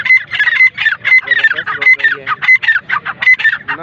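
A female partridge at a bird market gives loud, rapid, repeated calls in a continuous chattering series, close to the microphone.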